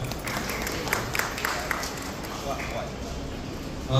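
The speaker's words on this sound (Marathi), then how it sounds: "त्यांच्यासाठी जोरदार टाळ्या वाजवायचे सर्वांनी" Dense audience clapping welcomes an arriving guest at a Chanakya Academy career guidance event in Wada, a steady broadband patter with a few sharper claps, continuing at an even level for the whole stretch.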